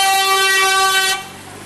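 A car horn blares during a Norijada graduation celebration in Dubrovnik, one loud, sustained blast lasting just over a second before cutting off.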